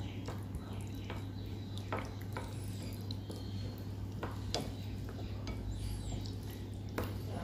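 A spoon stirs tomato sauce in a small bowl, giving soft, wet squishes and light clinks against the bowl in an uneven rhythm, close by over a low background hum.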